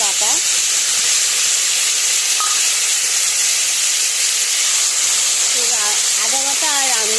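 Radhuni spice paste and ginger paste sizzle loudly and continuously in hot oil, a bright, even hiss that never lets up. Someone speaks faintly underneath near the end.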